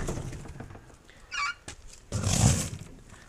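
Farm chickens near a pig stall make short bursts of clucking and squawking, one brief call followed by a louder, longer noisy flurry close by, with no talking.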